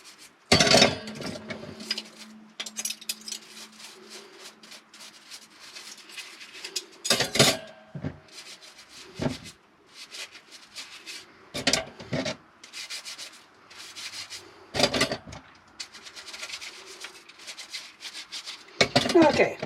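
Dishes being scrubbed by hand during washing up at Quartz Creek Campground in Alaska, with a cup of water: intermittent rubbing and scraping strokes in bursts, close and fairly loud, with quiet gaps between.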